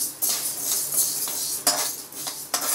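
Moong dal dry-roasting in a pan on a low flame, stirred with a metal spoon that scrapes and clinks in repeated strokes, close and fairly loud with no voices.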